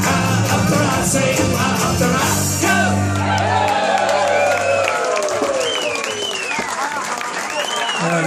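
A concert audience at a show bursts into loud applause, whoops and shouts. Music fades out beneath it, and dense clapping and cheering carry on alone.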